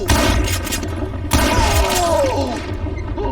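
Gunshots in the Call of Juarez: Gunslinger video game: two loud bursts of firing with crackling debris, the second burst followed by a ringing, sliding tail.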